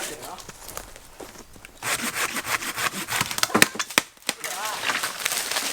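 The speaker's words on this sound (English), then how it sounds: "This is dead, so I'm just going to cut this down, get my trusty" A hand saw cuts through a dead tree beside a mountain bike trail, its rough back-and-forth strokes building from quiet rustling to steady, close rasping, with a voice talking over parts of it.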